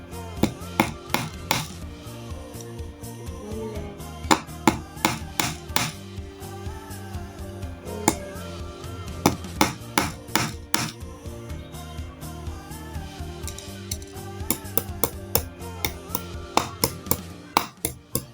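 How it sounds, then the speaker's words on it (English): Nails are hammered into a board for a string art piece, giving a long series of sharp, close metallic taps in irregular bursts, loud and without talk. "So let me first nail all of them,"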